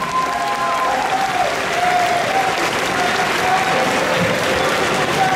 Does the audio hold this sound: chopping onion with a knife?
no